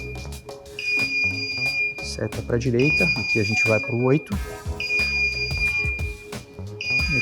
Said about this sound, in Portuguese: Então ele vai ficar tocando esse alarme até a gente configurar.